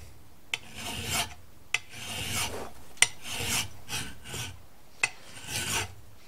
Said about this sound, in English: now I'm going to take a couple licks with a file